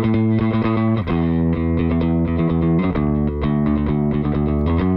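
Bass guitar played through the SansAmp on a Tech 21 Bass Fly Rig gives a loud, thick, overdriven tone. Several short runs of picked notes sound with steady attack, alone and with no talking.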